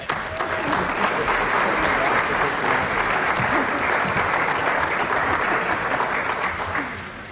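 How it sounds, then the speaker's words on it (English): Big audience applause at an evening talk at the 92nd Street Y, a dense, sustained roar of clapping from a large hall crowd that holds steady for about seven seconds before tapering off. "Let's have a big applause."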